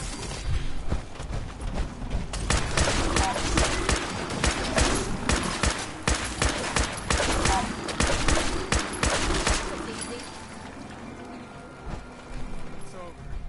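Heavy covering gunfire in the Fallout 4 video game, dense automatic bursts and rapid shots filling the first ten seconds, then thinning into sparser shots and ambience, with shouted voices over the firing.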